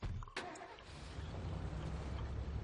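A car in the zombie survival video game State of Decay, its engine rumbling steadily at close range with a brief starting burst near the beginning, then droning on continuously throughout.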